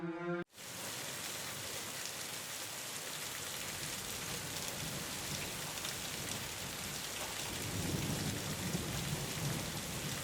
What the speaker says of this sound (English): If you are someone who finds calm in the sound of rain against the glass